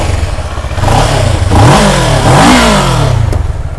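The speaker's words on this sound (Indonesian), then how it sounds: "Engine semua masih senyap lagi, exhaust standard lah, so bunyi tak kuat sangat." A 2012 Kawasaki ER6N 650 motorcycle on its standard exhaust revs up and down in a few rising and falling sweeps, loud and close over a steady idle.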